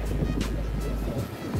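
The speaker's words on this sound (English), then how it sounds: "this joint's throwing some big, big waves out" Big ocean waves break on a beach in a brief, windy wash of surf with a low rumble, buffeted by microphone wind noise.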